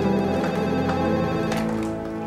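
A telephone rings indoors in an Indonesian TV drama scene, a steady tonal ring that holds for about two seconds and fades slightly toward the end, with no talk over it.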